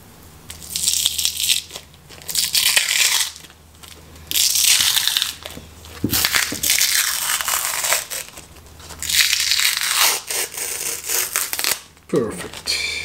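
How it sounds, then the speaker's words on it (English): Skin is pulled by hand off a cold smoked mackerel, giving close, repeated bursts of crinkly tearing and crackling with short pauses between them. "Here I've got a grip on the skin with my fingers so I can pull it off."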